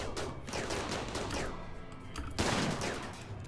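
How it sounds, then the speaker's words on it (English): Rapid turret gunfire in the RimWorld video game, a dense run of overlapping shots that keeps going for several seconds, with a fresh louder burst partway through and no voices. "took a shot in the back from the turret"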